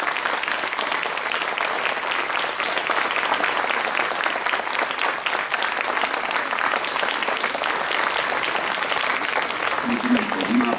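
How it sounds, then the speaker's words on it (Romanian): A concert audience applauds warmly in a hall, dense and sustained clapping from many hands filling the whole stretch at an even, steady level. "o invit să se ridice, să o aplaudăm cu căldură"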